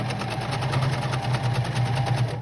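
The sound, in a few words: sewing machine stitching appliqué fabric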